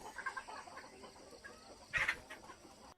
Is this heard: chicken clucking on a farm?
yes